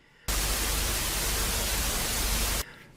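Underwater recording of a magnet gives a loud, even burst of static-like white noise lasting a little over two seconds, starting and stopping abruptly against a quieter hiss, with no voices.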